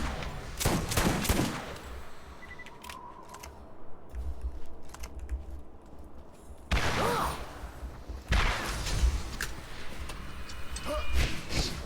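Shotgun blasts in the video game Borderlands 1, several loud broadband bursts spaced irregularly across the stretch, with a steady game ambience droning underneath and no talking.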